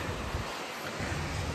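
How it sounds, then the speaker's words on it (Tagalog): Typhoon Kong-rey's strong gusting wind roars steadily with a broad rushing wash of heavy rain, loud and continuous throughout. "Talaga namang sobrang lakas ng bagyo."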